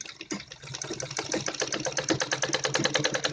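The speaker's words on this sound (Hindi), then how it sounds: "यहाँ पे मुझे सीधी सिलाई लगानी है इतने कपड़े में" A sewing machine runs a straight stitch through net cloth for a salwar, its needle ticking in fast, even, close pulses that speed up and grow louder after a brief start.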